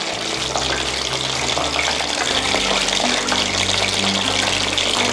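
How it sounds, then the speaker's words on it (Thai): Pork skin deep-frying in hot oil, with the boiling oil ladled over it using a spatula, a loud, dense, continuous crackling sizzle with bubbling and splashing, close and steady throughout. "คุณผู้ชมจะต้องคอยตักน้ำมันที่เดือดจัดแบบนี้ราดบนหนังหมูนะคะเพื่อให้หนังหมูเนี่ยเขาพองขึ้นมา"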